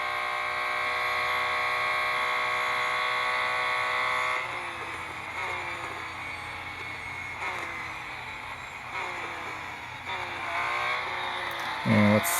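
A Porsche 935 race car engine holds a steady high-pitched buzzing whine at full throttle on the IMS road course, with several brief dips and pitch shifts as it shifts or lifts before climbing again, loud and close throughout.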